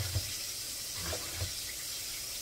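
Faint tap water runs into a bowl for washing cabbage in a home kitchen, a soft steady hiss with a few low knocks and clunks from handling, nobody speaking.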